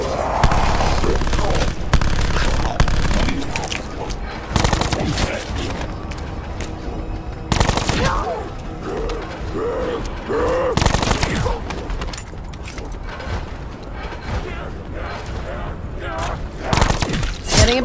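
Rapid bursts of gunfire from weapons in the zombie survival game IX Zombies Survival crackle in dense volleys and scattered single shots throughout, loud and close, with a voice occasionally talking over the shooting.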